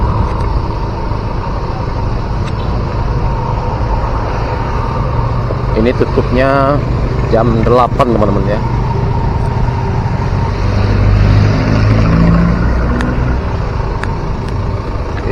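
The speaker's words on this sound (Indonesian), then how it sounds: "Ini cukup macet sekali, arah menuju ke Padang Panjang teman-teman" Heavy traffic jam at Lembah Anai on the road toward Padang Panjang, near the waterfall: a constant rumble of idling and creeping cars and trucks close by, with a person talking over the engine noise and brief horn-like tones.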